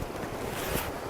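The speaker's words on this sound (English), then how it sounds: "the heavy water is dumping in," Heavy water rushes and churns through West Canada Creek, a continuous broad roar of current and chop heard close by, steady and unbroken, with no talking.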